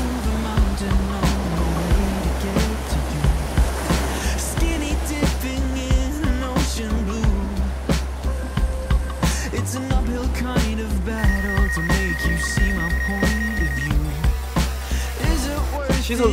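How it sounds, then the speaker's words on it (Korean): Ocean waves wash in at a seaside campsite, surging in a slow rolling rhythm beneath a steady low hum, with faint sharper knocks scattered throughout. "오늘은 파도 소리를 듣고 싶어서 90호 노을 캠핑장으로 왔습니다."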